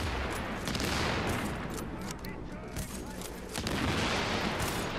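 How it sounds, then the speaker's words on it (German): Grenade explosions and gunfire in The Division video game, set in Times Square, forming a dense, continuous barrage of loud bursts and booms with a voice faintly underneath. "der Golden hat jetzt gerade drei oh. Granaten von sich selber abbekommen"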